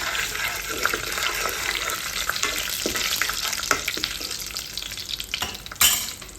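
Dried red chillies fry in hot oil for a ridge gourd chutney: a loud, dense, continuous sizzle close by, with stirring scrapes and a sharp crackling flare near the end.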